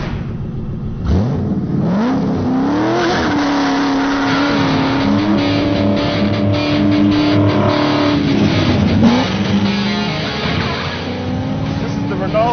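A 630-horsepower Ronaele 700R Mustang, styled after the Gone in 60 Seconds car, drives on a track, its engine droning and revving through rising and falling gear pulls, loud and steady throughout, with a voice speaking over it.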